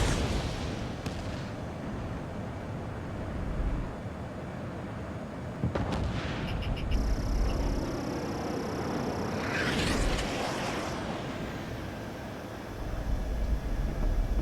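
Missile launch in the combat flight game Ace Combat 7: a rushing whoosh swells over a steady roar of jet engines, with muffled blasts and bursts of gunfire mixed in throughout.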